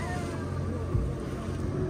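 Sea waves rock a boat off the Konkan coast, heard as a steady low rumble of engine and water with wind, one brief thumping slap of a wave midway.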